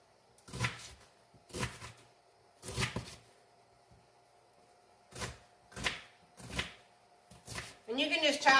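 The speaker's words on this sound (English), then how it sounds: "you can just chop the onions to your size preference" Onion being chopped with a knife on a cutting board while making corn chowder, several separate bursts of firm chopping spaced a second or so apart, with a brief rustle at the end.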